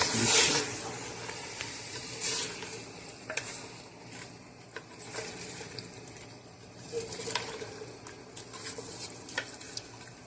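Green chilies and crushed garlic-ginger paste stirred with onions in a hot pot for desi chicken shorba, a steady sizzle and hiss under repeated scraping spoon strokes, close and moderately loud with no talking.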